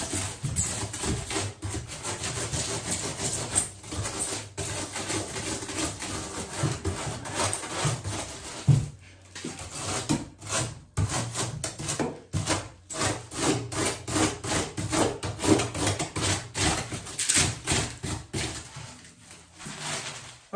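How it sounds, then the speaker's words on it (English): A pruning saw rasps steadily back and forth across a block of foam core, shaping the straight edges of an artificial rock: loud, close, continuous rhythmic scraping strokes with brief pauses. "Now I'm going to take this pole saw, or this pruning saw, and just try and work some of the edges"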